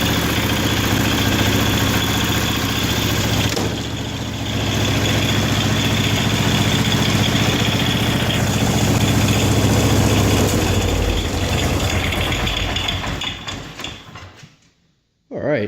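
A John Deere 210 garden tractor cold-starts after a loose fuel line, its engine running at a steady, loud idle with a brief dip in the middle before it shuts off near the end.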